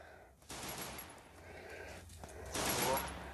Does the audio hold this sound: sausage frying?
no